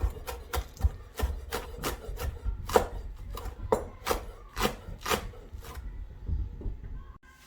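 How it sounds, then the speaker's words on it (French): A knife chops green onion stems finely on a cutting board in a quick run of sharp, close taps, irregular at first and then steadier, ending in a brief pause with no talking. "ici j'ai des tiges d'oignons, d'accord, je vais venir les couper. Alors allez, on va les hacher."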